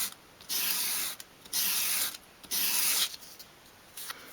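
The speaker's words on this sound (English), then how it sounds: "with the sandpaper flat on my work surface, I'm just going to bevel each edge of each piece" Sandpaper lying flat gets swept along the edges of small wooden dolls house pieces at a 45-degree angle to bevel them, making three steady, close, raspy strokes with short pauses between, then a lighter fourth.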